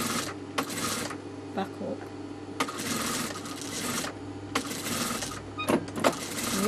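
A sewing machine stitches piping onto a garment neckline along an existing seam, running in short loud bursts of rapid stitching separated by brief pauses while the fabric is pivoted.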